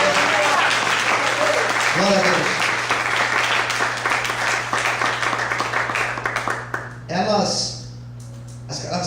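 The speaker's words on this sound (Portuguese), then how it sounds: "Será que você pode aplaudir o Senhor?" Church congregation applauding during a couples' talk, dense loud clapping over a low hum that fades out toward the end, with voices speaking and calling out over it.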